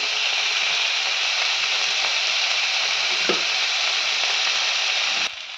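Dried loitta fish fries in a pan with eggplant and spices, a continuous even sizzle with one brief stir scrape near the end before the sound drops slightly.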